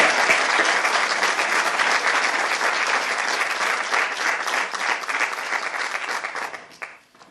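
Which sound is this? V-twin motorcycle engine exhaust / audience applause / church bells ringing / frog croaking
audience applause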